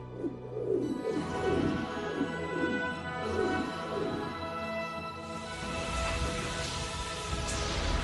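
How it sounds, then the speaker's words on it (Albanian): Storm rain falls steadily in an animated fairy series, a continuous broadband hiss lasting throughout, with soft cooing, bird-like calls repeating in the first half. "Përfrohet një stuhi dhe do të bjerë shi."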